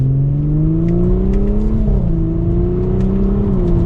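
A 2023 Audi S5 Sportback accelerating hard at part throttle, its loud exhaust droning steadily upward with a brief shift dip and a few crisp pops crackling over the top, close and continuous.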